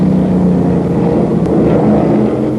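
1971 racing cars at Oulton Park, led by a BRM, give a loud, steady engine drone that holds level throughout, with no voices over it.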